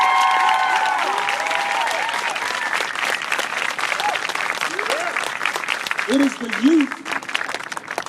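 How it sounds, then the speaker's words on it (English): A crowd at a Black Lives solidarity march applauds student leaders, a broad wash of clapping that fades slowly while a voice speaks briefly over it. "let's give our student leaders a round of applause"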